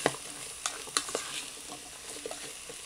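Vegetable stew for ragout stirred in a multicooker, giving quiet, soft scraping and clicking contacts in a sparse, uneven rhythm, close up with no talk.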